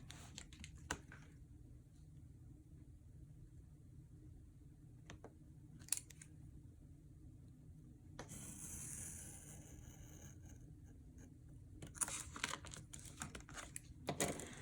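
A blade scores a book page along a ruler in a quiet, steady scraping stroke with a few sharper scratches and taps, close up and without talk.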